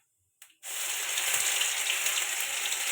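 Green peas tipped into hot oil flavoured with black cumin in a kadai for kachuri filling: after a short near-silence and a brief clatter, a loud, close sizzle bursts up and continues steadily.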